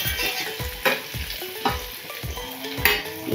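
Chicken stirred lightly in a frying pan for chicken do pyaza, a constant sizzle broken by a rhythmic series of soft scraping strokes and clinks, close and alone without speech.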